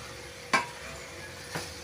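Two brief scrapes of a spoon stirring masala vegetable noodles with peas in a pan, a sharp stroke followed a second later by a softer one over a faint sizzle.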